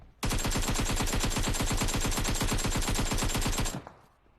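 Rapid automatic gunfire in the PUBG Mobile game, a loud unbroken burst of evenly spaced shots lasting about three and a half seconds before cutting off into a short fading tail.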